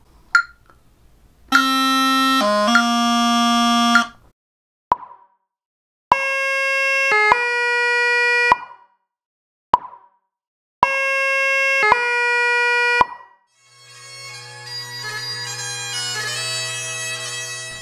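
Highland bagpipe sounding clear, sustained reed notes broken by quick grace-note embellishments, with a shorter lead note and a longer final note, played in several separate bursts before a steady droning passage at the end.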